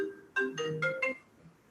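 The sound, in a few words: mobile phone ringtone from incoming call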